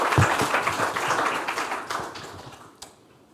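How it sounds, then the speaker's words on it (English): Conference audience at an academic event on traditional culture archives gives a round of applause, dense clapping that thins out and fades near the end, with a last lone clap. "we can give another round of applause"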